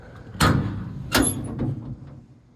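The doors of a 2003 Chevrolet 2500 HD standard-cab truck with a service bed and ladder rack open with two sharp mechanical clunks, followed by a softer rattle, heard close up.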